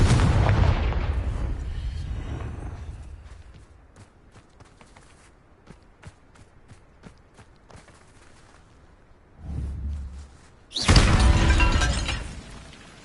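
Confringo fire spells burst in Hogwarts Legacy, heavy booming blasts at the start and again near the end, with quieter crackling impacts between them.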